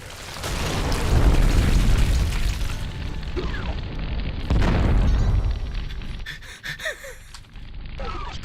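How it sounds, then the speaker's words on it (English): Overlapping explosions and deep booms roll through a Doom mod game, a loud sustained rumble with a second heavy blast midway, followed by scattered smaller pops and bursts. "So many different kinds of explosion going off."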